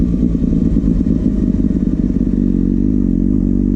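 Kawasaki ZX-6R sport motorcycle engine revving steadily during first-gear clutch-up wheelie practice, a loud, close, continuous throaty drone with slight pitch rises and a faint rattle, no talking.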